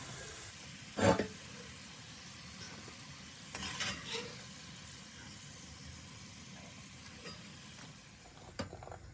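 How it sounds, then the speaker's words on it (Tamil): Onions frying in hot oil for a chicken sambal, giving a quiet, steady sizzle with a few brief clatters of stirring scattered through. "இப்போ அதுக்குள்ளே வெங்காயத்தை போட்டு பொறிக்கிறோம்"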